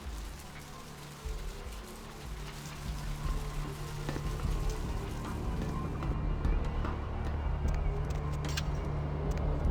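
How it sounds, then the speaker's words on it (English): Steady rain falls in Vampire: The Masquerade – Bloodlines, a dense patter of drops on surfaces that grows slightly louder, with a faint vehicle rumble underneath. "This rain is the pungent sewage of hell."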